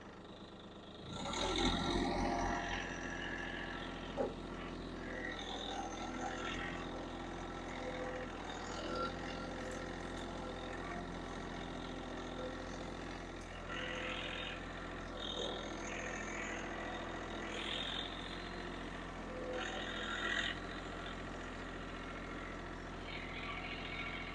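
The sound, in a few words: tractor engine running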